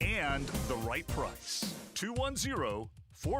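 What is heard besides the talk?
No everyday noises stand out.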